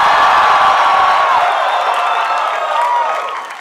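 A crowd at a drag comedy show cheers and applauds loudly for Lady Bunny, with whoops and shouts riding over dense clapping that fades a little toward the end.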